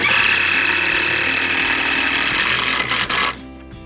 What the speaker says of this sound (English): Then obviously I've got the face section, we'll just countersink that.